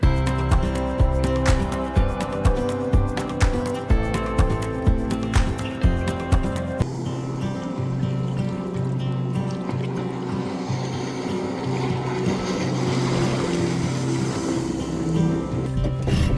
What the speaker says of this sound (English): We chose the speedboat ride.